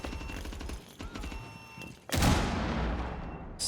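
A grenade explodes in the video game Rainbow Six Siege, a sudden loud, broad blast that decays into a rumbling tail after a stretch of quieter in-game mechanical noises and clatter.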